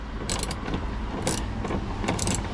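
A spanner tightening a bolt with a washer in an Iveco Daily van's battery compartment during a swivel seat install, giving a few quick metallic ratchet-like clicks in short bursts over a steady low rumble.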